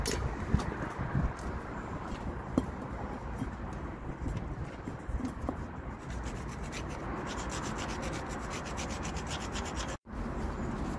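Sandpaper rubs steadily against the front brake disc shield area of a Mazda MX5 NC Mk3, making a continuous close, gritty rasp with a brief break near the end.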